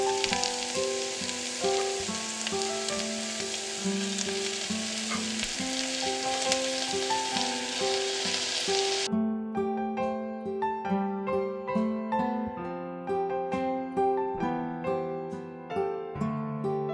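Tomatoes sizzle and fry in a pan for bean soup, a steady close hiss under loud background music with no talking.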